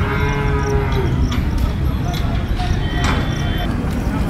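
Oxen at a busy cattle market in Sankeshwar, with bovine lowing and livestock sounds mixed into a dense, steady crowd din and people talking throughout.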